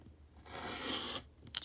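Fabric for crazy patch quilt blocks is trimmed with a long, faint slicing swish that builds and fades over about a second, followed by a brief soft click.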